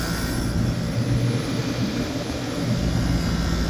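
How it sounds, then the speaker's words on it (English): Outdoor AC condensing unit running with its condenser fan, compressor and indoor blower all on, a compressor flagged as faulty with oil residue; a steady, loud broadband whir and low hum with no breaks. "Everything turns on, condenser fan is on, compressor is on, and the blower fan is on as well."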